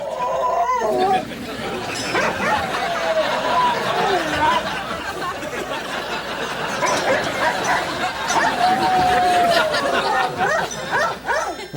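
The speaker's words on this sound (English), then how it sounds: "Some musical dogs accompany their own singing." A dog howls and yowls in long sliding tones over piano notes, with some background chatter.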